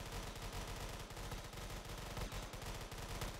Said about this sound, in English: they're just shooting the wall, are they?